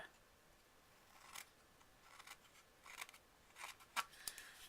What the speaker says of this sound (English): I'm going to take my scissors and trim off this little extra.